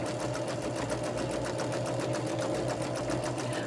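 A sewing machine stitches in the ditch along a patchwork pillowcase seam, with a close, steady whirring motor and even needle ticks throughout.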